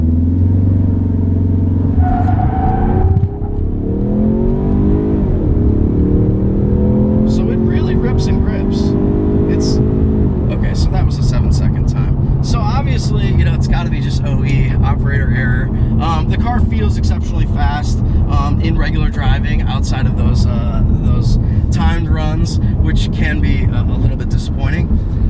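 A 2015 Ford Mustang EcoBoost Premium automatic with a turbocharged engine accelerates from 0 to 60 mph, loud rising engine tone climbing through gear shifts, then a rumbling cabin drone with a voice talking over it.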